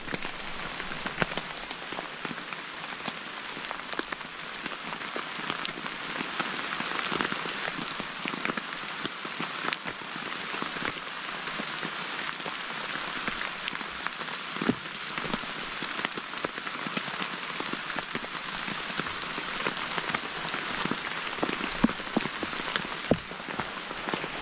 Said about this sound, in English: it has been raining rather heavily